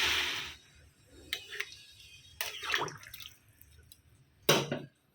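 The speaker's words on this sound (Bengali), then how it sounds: "আর কিছু দেবো না, এবার জল দিয়ে দেবো" Water splashes into a pot of vegetable and dal curry in a few separate short pours, with quiet gaps between them, close by and moderately loud.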